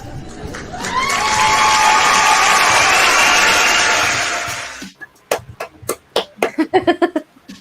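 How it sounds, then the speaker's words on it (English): A swelling, roaring crowd-like wash fades out, then a slow clap follows: distinct, sharp single claps spaced apart that gradually quicken toward the end. "Slow clap."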